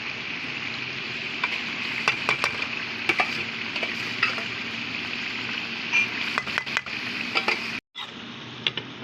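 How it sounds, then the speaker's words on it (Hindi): Boiled white urad dal is stirred into sizzling masala, with a steady frying hiss broken by sharp clicks and scrapes of a spoon against the pan, close and alone. "दाल को हम मसाले के अंदर मिक्स करेंगे"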